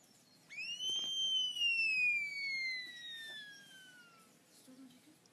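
A curassow gives a single long whistled call that starts with a sharp rise and then slides slowly downward over several seconds, clear and fairly close, with no talking during it.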